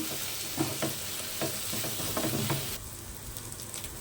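Chicken pieces sizzle steadily in a pan, coated with salt and chili, with a hiss that stays at an even loudness and a few scraping stirs. Nobody speaks.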